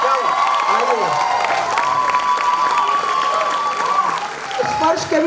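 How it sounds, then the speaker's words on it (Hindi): Loud applause and cheering from a crowd at a birthday event launching new music bands, steady and dense throughout with voices and shouts mixed in. "आपके लिए जोरदार ताली बजाएं"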